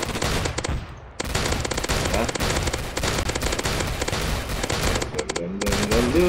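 Rapid automatic gunfire from a weapon in the Roblox game Zombie Attack rattles in dense bursts with only brief pauses, loud and continuous, with faint game effects underneath.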